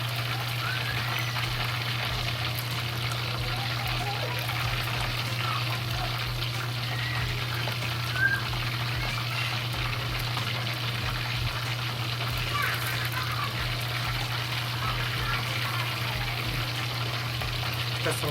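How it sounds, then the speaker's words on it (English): Pork pieces for Guobao Rou deep frying in a pot of oil, a steady dense crackling sizzle running continuously at even loudness with a low hum beneath, no voices. "Put in the pot. Just let it fry."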